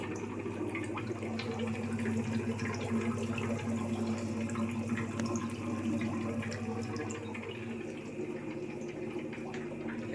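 A double water pump runs continuously in a fish egg hatching tank, a steady humming drone with a flowing, trickling wash of water over it, constant throughout and without talk.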